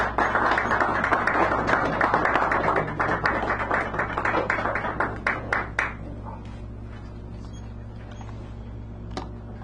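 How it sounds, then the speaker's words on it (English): An audience at a café poetry hour gives a round of applause: dense, lively clapping that thins to a few scattered claps and stops over a steady low room hum. "Give him a round of applause as he comes forward."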